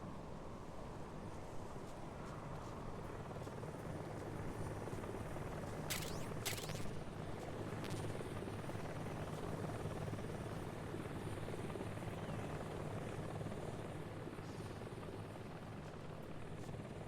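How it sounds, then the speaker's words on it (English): A helicopter in Metal Gear Solid 3: Delta whirs steadily for the whole stretch, a constant rotor drone with a faint wind-like hiss. A few brief high clicks cut through around the middle. "I hear the chopper too."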